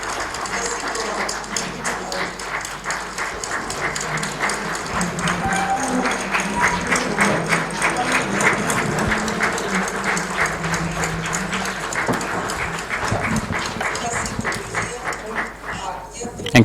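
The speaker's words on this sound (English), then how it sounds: "I'm very moved by this applause" An audience applauds after a talk at a media conference, a sustained wash of clapping that swells and holds at moderate volume before tapering at the end.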